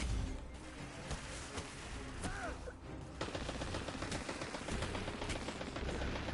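Horror Story auto rifle in Destiny 2 firing rapid sustained bursts, a dense stream of gunshots over game ambience, with a brief pause partway before the firing resumes steadily to the end.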